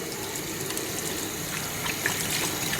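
Tap water running steadily while hands are washed with soap in a kitchen, a continuous close gush with small splashes and shifts as the hands move under the stream.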